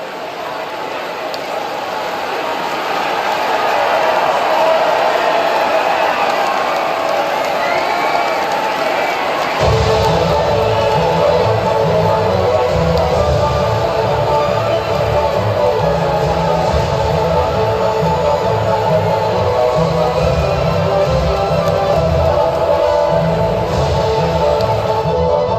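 A crowd cheers at the podium in the F1 24 video game, a sustained roar of cheering and whooping that builds and stays loud, joined midway by a deeper rumbling layer.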